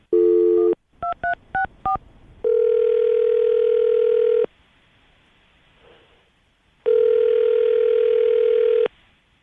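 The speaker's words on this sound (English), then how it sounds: "I'm going to give her a call right now, see if we can get her on the phone" Telephone call being placed for a radio morning show: a dial tone, a quick series of keypad dialing tones, then two long ringback tones separated by a pause.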